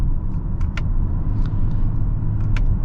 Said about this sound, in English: The moment you put it in sport mode,